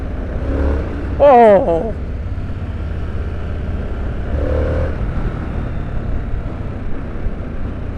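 A 2022 Harley-Davidson Sportster S accelerates hard with a steady low engine roar under wind noise. A rider gives a short surprised exclamation near the start.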